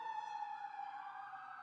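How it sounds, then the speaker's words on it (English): An ambulance siren wails steadily at a distance, a faint sustained tone that slowly falls in pitch as it passes by. No voices are heard. "ambulance going by"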